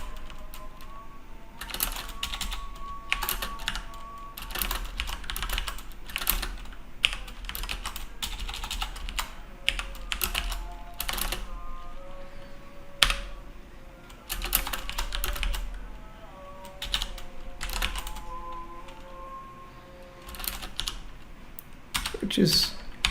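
Code being typed on a computer keyboard in bursts of quick, close key clicks separated by pauses, fairly quiet, with a voice talking at times alongside the typing.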